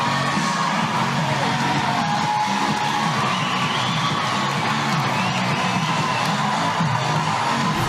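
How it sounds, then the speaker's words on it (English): A sold-out softball crowd in Portland roars after a home run, a dense, sustained wash of cheering, whoops and yells that fills the stadium at steady high volume for the whole stretch. "she's given this sold-out crowd here in Portland something to celebrate"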